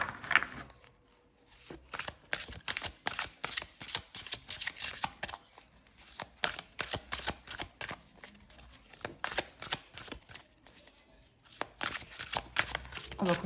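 Tarot cards being shuffled by hand, a soft, rapid run of riffling and sliding bursts that continues steadily, close and fairly quiet.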